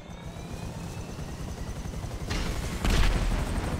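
A Buzzard attack helicopter in GTA V, with a steady chopping rotor drone that swells louder near the end, close and continuous with no voices.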